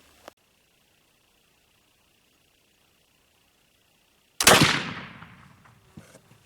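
A single loud gunshot from a firearm loaded with homemade blended black powder cracks sharply after a long quiet stretch and rings out in a decaying tail, preceded by a faint click.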